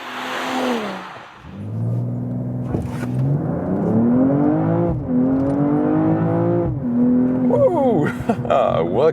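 A BMW M240i coupe accelerates hard from a standstill to 100 km/h, its engine note rising steadily through several gear changes, loud and close from inside the cabin with a brief dip between shifts.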